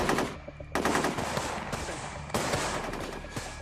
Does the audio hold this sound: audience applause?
no